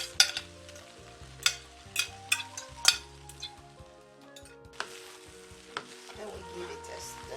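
Fried rice made with soy-sauce-cooked white rice being stir-fried, with sharp repeated clinks and scrapes of a utensil against the pan over a gentle sizzle, no voices.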